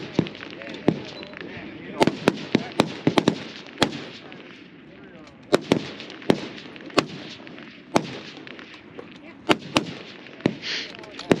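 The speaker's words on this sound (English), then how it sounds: "We're gonna get another shot off." Rifle shots at a 1000-yard F-Class long-range match ring out as sharp, loud cracks, more than a dozen spread unevenly across the stretch, some close together, over faint background murmur and breeze.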